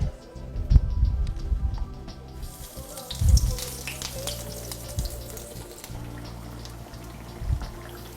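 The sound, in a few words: breaded eggplant frying in hot oil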